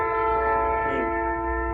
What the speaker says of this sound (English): what they call here the skunk train